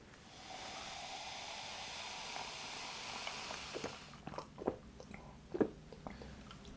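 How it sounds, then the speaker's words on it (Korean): Spicy rosé tteokbokki and cheesy corn dogs being eaten up close, with soft wet chewing and bites emerging after a steady hiss, several distinct crunchy smacks in the last few seconds, no talking. "일단 빨리 먹어볼게요"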